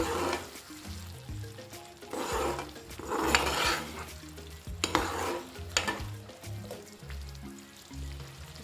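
Spices fry for besan sabzi in a pan, stirred with repeated scraping strokes over a soft, steady sizzle, moderately close and fairly quiet.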